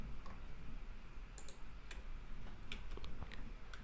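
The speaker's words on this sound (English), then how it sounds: "If not, then just press I from the keyboard." Computer keyboard keys pressed at a desk during a software tutorial: scattered light clicks over a steady background hiss, faint and irregular, with no voices.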